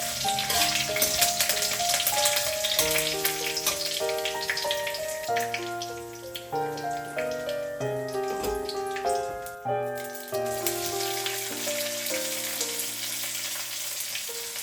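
Whole mustard seeds and a few curry leaves sizzle in hot oil for a masala dosa filling, a steady hissing crackle that sits beneath louder background music throughout.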